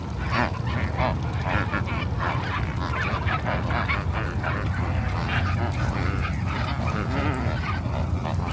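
A large flock of flamingos on a small lake in Namibia, a continuous dense chorus of honking, goose-like calls that stays loud and unbroken throughout.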